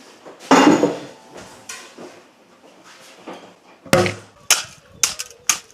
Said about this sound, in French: je parle vraiment de 2 grosses casseroles